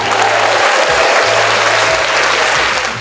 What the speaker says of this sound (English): So we just got the audience to applaud Ken.